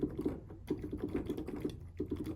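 The plastic keys of switched-off electronic keyboards clack in quick, uneven runs of soft taps as they are played close up, with a brief pause in the middle.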